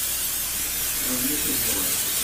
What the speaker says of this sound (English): pan I'm going to spray with some cooking spray